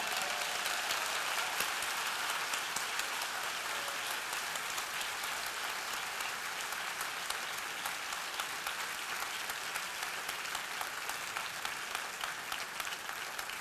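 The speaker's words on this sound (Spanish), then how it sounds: "Denle un aplauso a Jesús en esta mañana" A church congregation claps together in sustained, even applause that stays fairly faint and unbroken from start to finish.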